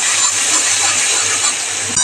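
Onion paste and black cumin seeds sizzle in hot oil, a steady, loud, close frying hiss that holds evenly throughout with no voices over it.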